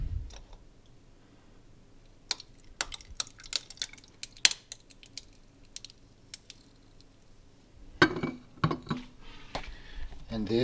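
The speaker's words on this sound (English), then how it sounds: "you just take a glass, you put some ice in there" Ice cubes clink into a glass set up for cold brew coffee, a run of sharp scattered clicks and taps, then a louder clatter near the end.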